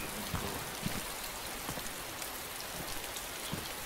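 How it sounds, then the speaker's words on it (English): Steady in-game rain in DayZ patters across surfaces as a continuous wash of close, even noise, with a few brighter drops standing out now and then. "is it just me or is it raining?"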